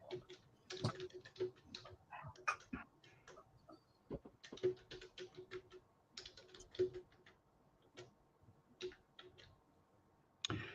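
Irregular clicking keystrokes on a computer keyboard come in quick uneven bursts with short pauses, close and fairly quiet.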